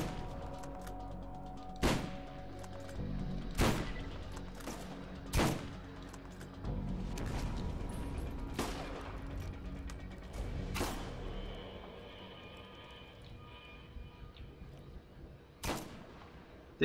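Heavy booming shots from a rifle-shotgun hybrid gun in the Borderlands video game fire about every two seconds, loud and close over a constant low rumble of game ambience.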